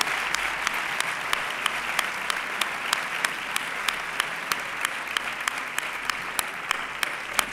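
Sustained applause fills a hall at a sports awards ceremony for a young athlete's prize, an even, continuous roar of clapping with crisp regular claps from someone close by.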